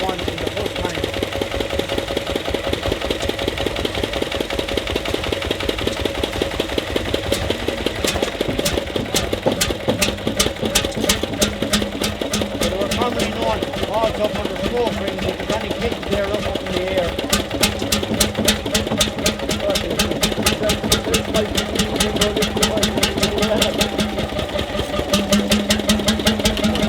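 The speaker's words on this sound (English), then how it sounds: "So the engine is turning clockwise." An old barge engine at an agricultural show runs steadily with a fast, even mechanical knocking beat. It stays close and loud throughout, and a voice talks faintly beneath it at times.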